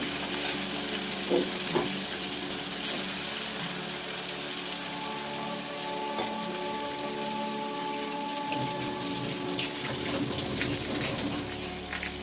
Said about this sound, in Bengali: মাছগুলো ভাজা করি